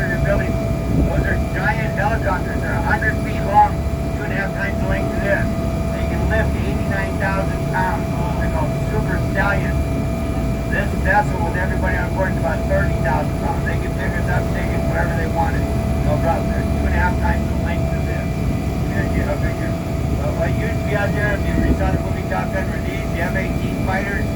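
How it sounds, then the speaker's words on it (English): A military Osprey tiltrotor aircraft drones steadily nearby at sea off Coronado Island, a constant loud engine roar under someone talking throughout. "These are called Ospreys. They can land and take off like a jet, land and take off like a helicopter."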